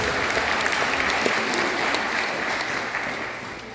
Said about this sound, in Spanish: También fuerte el aplauso